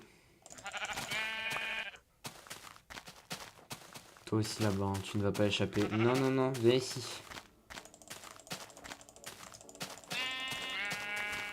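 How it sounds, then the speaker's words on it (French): Harmonic sheep bleats from Minecraft sound repeatedly, some loud and close, mixed with a man's chatter and soft clicking noises. "Très important les moutons, je vais aller les tuer."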